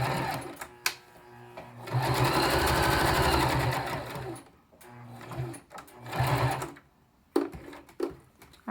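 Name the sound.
sewing machine stitching face mask pocket openings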